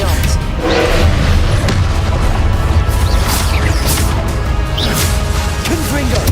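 Confringo explosive spell blasts in the video game Hogwarts Legacy: loud booming impacts and whooshing crashes in a dense, continuous barrage, with a voice shouting over the din.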